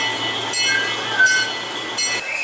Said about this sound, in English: So this is the Holodog Express, which is a miniature train ride.